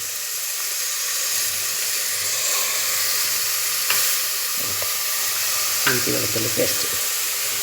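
Ginger garlic paste sizzles and fries in a hot pan, giving a steady, dense hiss with a few faint stirring clinks and scrapes.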